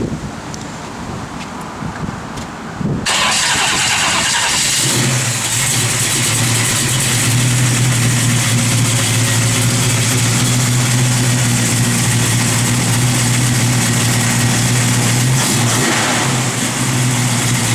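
A 1969 Chevrolet Camaro engine cranks and catches, then settles into a steady idle with a low, constant drone, heard alone with some wind noise.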